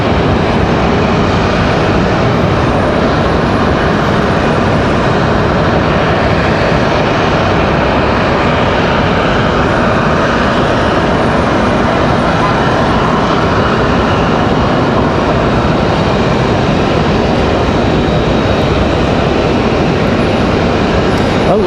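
An airliner at Raleigh-Durham International taxis and holds while waiting for a departure slot, giving a loud, unbroken broadband jet engine rumble and hiss with no break.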